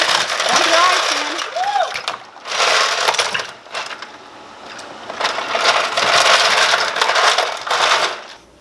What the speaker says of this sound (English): Dump the ice in.